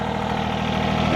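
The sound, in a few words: John Deere 855 tractor engine idling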